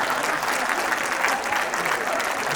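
An audience at a Hindi kavi sammelan poetry event claps in a dense, continuous roar of applause, loud and sustained throughout.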